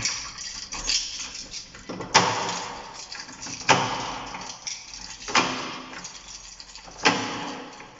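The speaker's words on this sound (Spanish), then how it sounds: "Cerramos puerta." A house door swinging shut, heard as a series of sharp knocks and latch clunks spaced about a second and a half apart, fairly close, with no voices.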